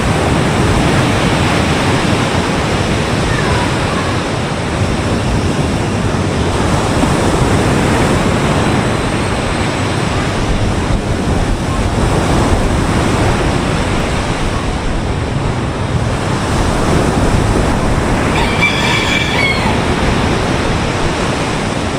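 Sea waves wash in a constant loud roar of surf and wind noise across the whole stretch, with a brief faint voice near the end.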